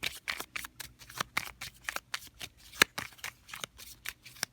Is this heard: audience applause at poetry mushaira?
no